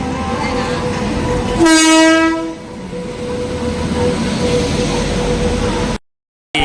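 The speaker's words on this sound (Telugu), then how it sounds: "మా ట్రైన్ వస్తుంది" A passenger train bound for Tirupati sounds a loud, sustained horn as it pulls into a station platform, with a steady rumble of the cars rolling past and continuing after the horn stops.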